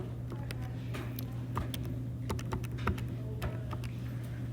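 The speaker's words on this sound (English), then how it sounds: "So when we type that in our calculators," Quiet, irregular taps of fingers on calculator buttons entering numbers, short sharp clicks scattered over a steady low hum in a classroom.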